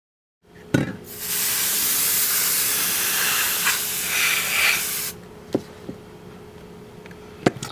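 An iPad Mini LCD screen being cleaned: a steady, close hiss of spraying air runs for several seconds, then stops, followed by a few sharp taps and clicks in a quiet room.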